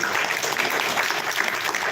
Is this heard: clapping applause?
yes